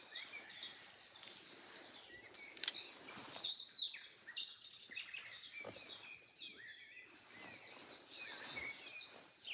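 Birds chirping and tweeting continuously outdoors in the morning, a busy mix of small calls at moderate distance with no talk.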